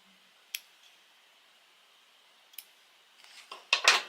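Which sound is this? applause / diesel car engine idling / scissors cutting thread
scissors cutting thread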